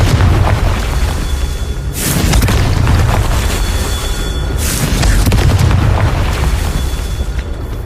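Confringo spell explosions in Hogwarts Legacy, a dense run of loud, close booms rolling into one another with two bright crackling blasts standing out, continuous and heavy with no talking.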